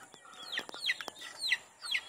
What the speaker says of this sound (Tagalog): Inahin.